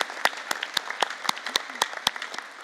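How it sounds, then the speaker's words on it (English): Graduation ceremony audience claps for graduates, a short spell of sparse, distinct claps in an irregular rhythm, moderately loud and without talk. "we'll give you some applause too"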